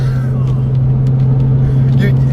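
A Porsche 911 (996) Turbo's twin-turbo engine drones steadily and loudly up close, with a strong low hum and layered harmonics held throughout.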